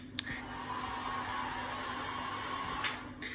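A hair dryer in a Berlin hostel room blows with a steady, even whoosh throughout, fairly close and unbroken, with a couple of faint clicks near the start and end and no voices.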